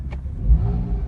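A 2013 Porsche 911 engine gets a quick automatic throttle blip during downshift braking, one short sharp rev rising and falling under the steady idle, close and loud.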